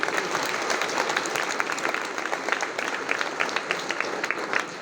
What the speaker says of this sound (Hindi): बच्चों, तालियों के साथ स्वागत कीजिए।